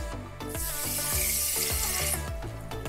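About one and a half cups of water pours into a pot for cooking millet in a countryside cottage kitchen, a steady rushing splash lasting around two seconds over rhythmic background music.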